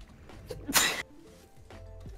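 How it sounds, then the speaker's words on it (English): A single sharp human sneeze bursts out about three quarters of a second in, loud and brief, amid quiet background noise during a slot game bonus session. "I gotta sneeze."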